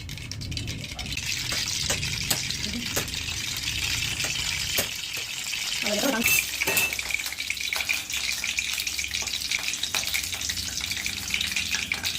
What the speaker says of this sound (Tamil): அடுத்து நல்லெண்ணெய் ஊற்றிக்கலாம். ரெண்டும் சூடு ஆகட்டும்.